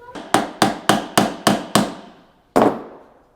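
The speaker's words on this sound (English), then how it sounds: "Hammering on an ammo box." Hammering on an ammo box in the game BOLTR: seven sharp, ringing metallic strikes in a quick steady rhythm, then a pause and one final blow, loud and close.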